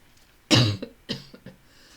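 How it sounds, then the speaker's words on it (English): A single close, loud cough is followed by a softer second cough and a brief throat-clearing rasp, heard alone in a quiet indoor room. "I've barely coughed today."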